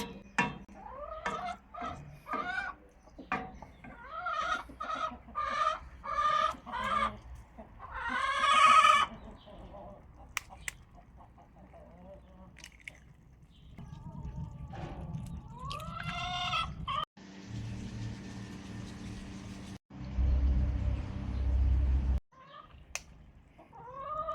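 Chickens cluck and squawk in a busy run of calls, with a rooster's louder cries mixed in, then rustling and scraping noises near the end.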